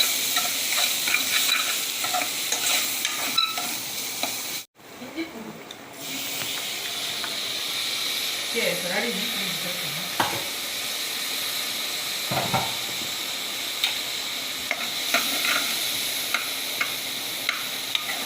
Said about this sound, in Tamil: வெங்காயத்தை வதக்குனாங்க, இஞ்சி பூண்டு இது வதக்குறாங்க